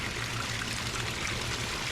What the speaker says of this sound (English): We'll have maybe a little bit of rock work on the waterfall, but we got it running